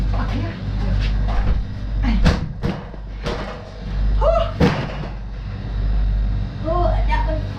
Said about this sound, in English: I'll shut the freezer.